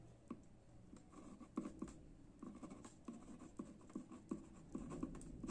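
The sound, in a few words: writing by hand on paper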